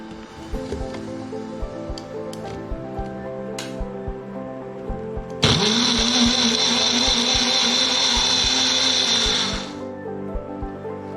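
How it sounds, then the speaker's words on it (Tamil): An electric blender grinds a mango milkshake with ice cubes, switching on abruptly partway through with a loud, steady whirring roar for about four seconds before winding down, with quieter kitchen clatter before and after. "இப்போ நல்லா நம்ம கொஞ்சம் ஐஸ் கியூப் போட்டு கொஞ்சம் அரைக்கலாம்."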